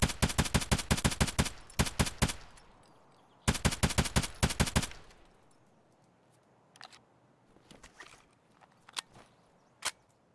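Rapid automatic gunfire in Escape from Tarkov comes in two sharp, loud bursts of cracking shots, followed by a quieter stretch of scattered single shots and distant impacts.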